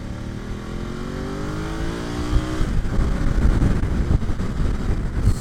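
A 2025 BMW F900GS Adventure motorcycle engine revving with smooth quick shifts, rising tones that break off as the next gear engages, then a rougher rumbling drive with wind noise.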